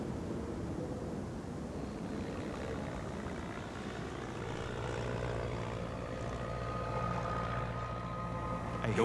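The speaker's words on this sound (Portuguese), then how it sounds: "Eu ouço um avião." An airplane flying overhead in the wilderness, a steady low droning engine hum that slowly grows louder and nearer over several seconds, with no talk.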